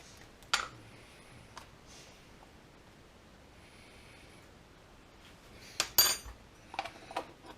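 Bara Brith batter is stirred in a bowl, with faint scraping and a few sharp clinks of a spoon against the bowl, mostly near the end.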